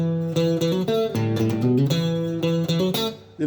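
Guitar intro riff, played alone as a bright strummed chord sequence with a bouncy rhythm, moving between chords and fading at the end.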